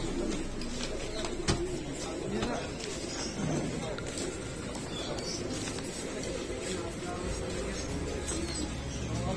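Racing pigeons cooing in a loft or crate, soft repeated coos and wing shuffles scattered through a busy background, with people talking nearby.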